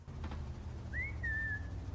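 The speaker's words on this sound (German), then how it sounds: "du kannst so pfeifen mit R" A single whistled note from a player character in Fortnite Prop Hunt, triggered by a key press, rises then glides into a sustained tone over a low background murmur, lasting under a second.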